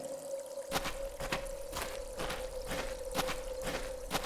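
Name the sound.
running water in a natural well, video game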